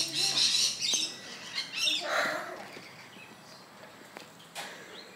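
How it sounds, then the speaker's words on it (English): A pet bird squawks and chirps close by indoors, with loud harsh bursts at the start that fade into scattered softer calls and a rustle of wings. "Bird. Meet camera. Camera, meet bird."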